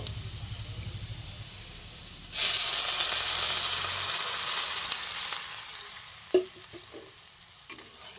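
Water splashes into a pan of vegetables frying with salt, turmeric and chilli, setting off a sudden loud burst of hissing steam that slowly eases into a steady sizzle, with a couple of clanks from the pan.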